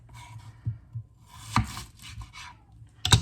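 A knife chops through a red onion on a cutting board, a few sparse, close thuds and crisp slices spaced unevenly, with the last cuts sharper and louder.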